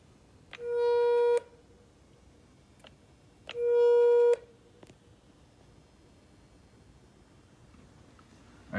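A Phaserunner motor controller runs its AutoTune static test on a BBSHD e-bike motor. It gives two long, loud electronic tones about a second each, separated by a pause, followed by a few faint clicks over a low background hum.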